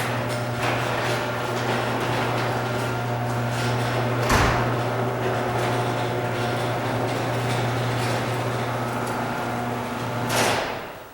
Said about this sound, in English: I'll close the garage door now so we can see that